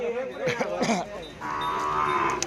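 A cow at a cattle market in Roi Et, Thailand moos twice, the first call rising and wavering, the second a long steady low bellow, close by with no talking.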